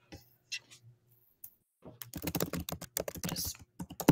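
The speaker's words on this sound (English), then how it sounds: "Just, sorry, I'm typing. I know it's loud." Typing on a computer keyboard during a planning and zoning commission meeting, a few scattered taps at first, then a fast, steady run of close, loud key clicks with low room hum beneath.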